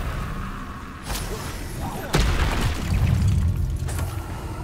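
Spell blasts from the Confringo fire spell in Hogwarts Legacy, several sharp booming impacts spaced about a second apart with whooshing tails and rumble, loud over a busy game soundscape.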